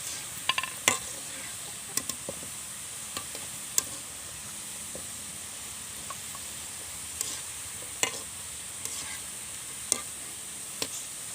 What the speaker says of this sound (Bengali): তাহলে দেখুন গজাগুলো ব্রাউন কালার করে ভেজে নেওয়া হয়ে গেছে।